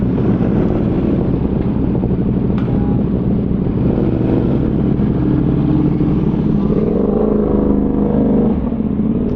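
A CFMOTO 450CL-C cruiser motorcycle engine runs as a steady, close drone throughout, mixed with wind buffeting on the microphone.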